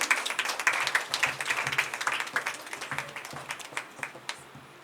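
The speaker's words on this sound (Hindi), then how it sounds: "जोर से ताली बजाएंगे प्रभु यीशु मसीह के लिए।" A worship congregation claps hard for Jesus Christ, loud crisp handclaps in an uneven, partly rhythmic patter that crowds the room, with a faint low hum underneath.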